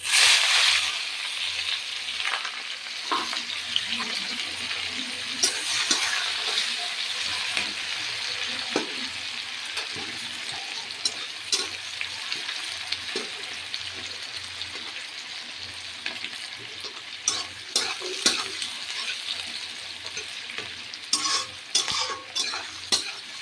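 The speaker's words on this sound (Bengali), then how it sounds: "এখন আমি এটার মধ্যে কুচনো পেঁয়াজ দিয়ে দেবো।" Chopped onion added to hot oil with cinnamon and cardamom frying in a pan, a steady loud sizzle with repeated scraping and clinking of a stirring spoon against the metal pan, no talking.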